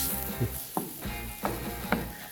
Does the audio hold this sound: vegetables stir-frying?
yes